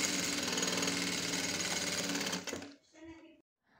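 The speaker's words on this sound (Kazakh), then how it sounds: "Енді осыған қойып лентаны тігіп аламын" A sewing machine stitches tape onto a curtain in a fast, even, buzzing run that stops abruptly, followed by brief faint mechanical clicks.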